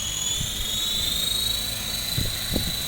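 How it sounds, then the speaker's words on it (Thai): A remote-control helicopter's small rotor spins at full speed with a high, steady whine and a buzzing motor drone, continuous throughout with a few low thumps underneath. "ฟังให้ เสียงใบพัดให้หมุนให้สุดเสียงก่อนนะครับ"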